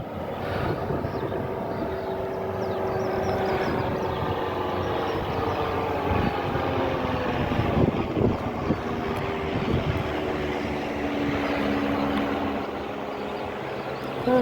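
A light aircraft flies overhead and circles above the Wales coast path, making a steady, loud droning engine hum that holds for the whole stretch with no talk.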